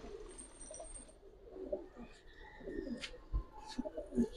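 Giribaz pigeons in a loft collection give soft, low coos, repeated in short bursts over a quiet room with faint background noise.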